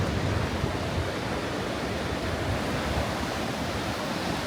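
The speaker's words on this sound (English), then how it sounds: "The waves are high." High waves crash as surf on the Lake Michigan shore at sunrise, a steady, dense roar with constant wind buffeting the microphone and no voices.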